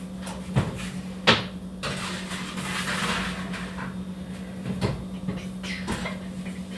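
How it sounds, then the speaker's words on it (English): Trays of pumpkin chocolate chip cookies go into an oven, with several hard clanks and thumps of the oven door and racks over a steady low kitchen hum. "I'm going to go ahead and pop these on into the oven for the next 11"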